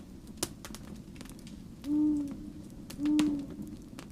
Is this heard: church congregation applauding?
no